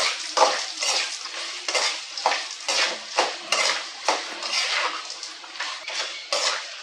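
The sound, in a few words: sautéing urad dal in a pan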